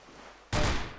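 A loud, sudden burst of gunfire from an online multiplayer shooter match in Intruder, starting halfway through and sustained, dense and close, after a quieter stretch of ambient game noise.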